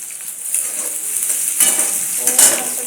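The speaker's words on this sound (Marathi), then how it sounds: "थोडासा कांदा टाकू बारीक चिरलेला." Finely chopped onion frying in a pan while being made into a chapati dish, a soft steady sizzle with light stirring scrapes and a couple of brighter spatula clinks.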